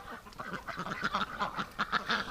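A flock of ducks in winter quack continuously, a dense chatter of overlapping calls, moderately close and fairly steady.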